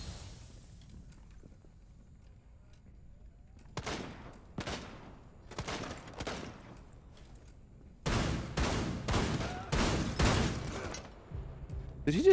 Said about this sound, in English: Did he just try to shoot that guy with a shotgun?